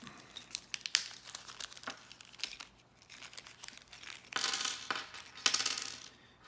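Small screws from a Raspberry Pi touchscreen case click and tinkle as they are handled and dropped on a hard surface, scattered close metallic ticks with faint rustling and no talk.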